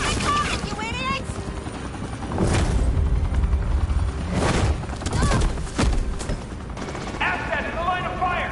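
Gunfire in the video game Batman: The Enemy Within: several sharp, heavy shots and thuds burst out among mechanical and game noise, with voices heard between them.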